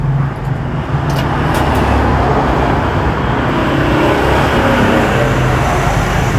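GPX Drone motorcycle engine held at a steady, loud rev, a continuous close roar with little variation throughout.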